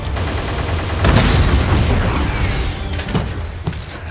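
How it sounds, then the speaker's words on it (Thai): A loud, rumbling cinematic blast from the film Nobody, a bomb set against bulletproof glass, with crackling debris and sharp impacts rolling on for several seconds, no voices present. "ฮัทก็เลยเอาระเบิดติดกับกระจกกันกระสุนแล้ววิ่งไปหาย"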